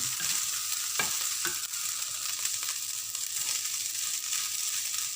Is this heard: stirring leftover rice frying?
yes